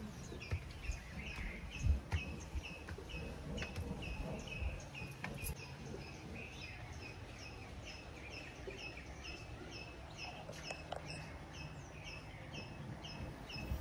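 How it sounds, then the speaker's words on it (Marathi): Birds sing in a village garden at Kankavali in the Konkan region, with repeated high chirps and calls scattered across the clip over a steady insect-like background hum, moderately distant and fairly faint. "आणि पक्ष्यांचा आवाज सुद्धा खूप छान येतोय"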